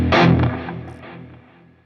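Distorted electric guitar plays a short heavy riff that ends on a big ringing five chord, loud at first and then decaying over a couple of seconds.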